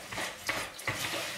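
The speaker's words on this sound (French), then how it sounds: "je préfère mélanger à la spatule parce que vous voyez au moins je peux écraser" Cookie dough being mixed and pressed with a spatula in a bowl, soft scraping strokes and a few dull knocks against the side, close and quiet with no talk.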